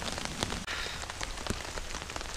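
Steady rain patters on a surface at a campsite during a thunderstorm, a dense even hiss with occasional louder drops and no voices.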